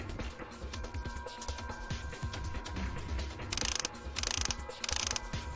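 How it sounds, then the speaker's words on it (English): Mechanical ratcheting and clicking of bolts being turned and removed from a cover in the video game Virtue's Last Reward, with bursts of sharper metallic clatter over a steady game backdrop. "Should be able to remove the cover if I take out the remaining bolts."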